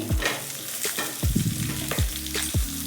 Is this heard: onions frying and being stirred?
yes